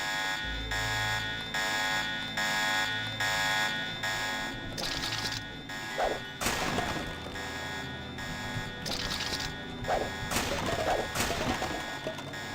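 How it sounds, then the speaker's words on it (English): Alarm going off in Deus Ex, a steady electronic tone droning on through the whole stretch, with several sharp crashes and thuds breaking over it. "where did that alarm come from?"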